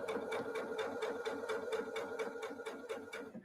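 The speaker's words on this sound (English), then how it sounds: "And now I sew" A domestic sewing machine with a needle-down setting stitches steadily at a quick, even rhythm of needle strokes, close and clear with no talking over it.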